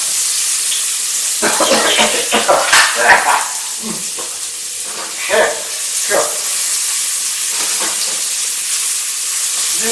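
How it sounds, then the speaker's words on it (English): Chili and garlic sizzling in hot oil while stir frying, a steady close hiss broken by crackling spits and bursts, with a single spoken word over it. "Nice sizzle there."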